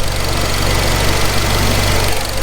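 The engine of a tuned Hyundai Genesis Coupe runs loud and close, a rough, steady idle with a throbbing low rumble that carries on without a break and has no talk over it.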